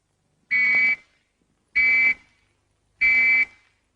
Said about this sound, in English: Or 3 whistles like this.